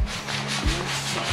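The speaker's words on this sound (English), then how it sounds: "I'm gonna be sanding hatches." Sanding of catamaran engine space hatches, steady close abrasive rubbing strokes with rhythmic back-and-forth swells, no voices.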